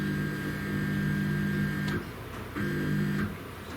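CNC machine axis jogged under Mach3 control: a steady motorized whine with tonal hum, stopping briefly and restarting as the axis moves back and forth, loud and close.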